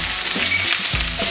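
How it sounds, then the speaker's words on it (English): Sliced onions frying in a pan for a beef stir fry, a steady close sizzle with a couple of brief scraping stirs, no talking. "You want the onions in there. Get them cooked down first, like so."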